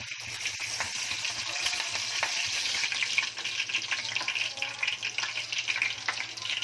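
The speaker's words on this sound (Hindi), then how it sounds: "हाँ, इसमें पहले जा रहा है करी पत्ता" Curry leaves dropped into hot mustard oil crackle and sizzle loudly and continuously, a dense spattering hiss with scattered pops, close by and without talk.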